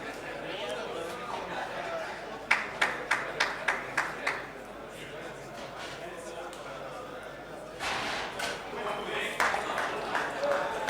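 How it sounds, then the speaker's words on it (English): Spectators at a pool match break into a run of evenly spaced claps, then scattered applause swells again near the end. Murmured chatter and a commentator's voice run underneath. "Crowd claps, thoroughly entertained."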